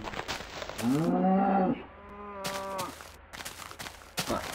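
A Minecraft cow gives two drawn-out moos, the first louder and fuller, the second lower and thinner, with short clicks and game sounds around them.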